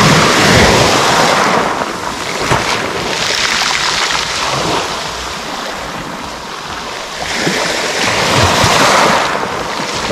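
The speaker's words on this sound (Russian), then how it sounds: "Ну и традиционно море." Sea waves on the Black Sea at Lazarevskoye, Sochi, in January rain surge and wash in repeatedly, loud and close, with wind buffeting the microphone and no voices.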